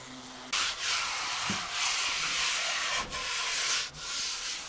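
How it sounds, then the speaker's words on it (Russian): A cordless sanding machine scrubs across a wooden board in a cabin in the taiga, giving loud, continuous rasping strokes with brief pauses as it shifts position. "Все, доску я отшлифовал."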